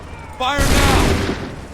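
Musket volley from a line of soldiers in Assassin's Creed III, a sudden loud broadband blast of many shots fired together with a rolling, echoing tail, following a voiced shout just before.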